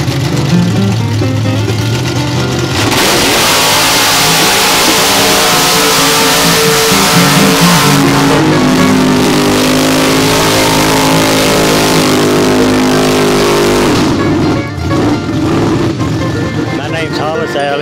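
Engines of trucks, including a small Toyota pickup, rev hard at a Kentucky mud bog, a loud sustained roar swelling from about three seconds and holding steady, with voices audible in the background.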